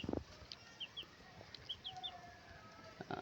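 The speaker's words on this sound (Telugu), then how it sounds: "ఇక్కడ కనపడుతున్న 3 పెట్టలండి" Hens on a poultry farm where birds are sold, giving a few soft clucks and brief high chirps, faint against low background noise, with no talk.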